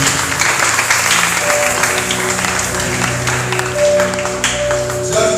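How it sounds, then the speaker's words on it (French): A church congregation gives sustained, dense applause in praise of Jesus, loud and steady from start to finish, with faint musical tones beneath. "Acclamons pour la gloire de Jésus."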